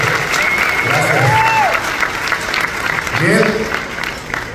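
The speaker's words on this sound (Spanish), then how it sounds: "Un fuerte aplauso a la orden, amigo." Applause from the audience at a Teachers' Day celebration, steady and loud, with a voice speaking and a few whoops rising over the clapping.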